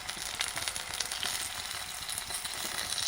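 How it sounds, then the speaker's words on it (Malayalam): Ginger, garlic, green chili and curry leaves fry in coconut oil for a chicken roast, a steady close crackling sizzle with fine pops throughout. "ഇഞ്ചി വെളുത്തുള്ളി പച്ചമുളക് കറിവേപ്പില ഒക്കെ മൂത്ത് വന്നിട്ടുണ്ട്"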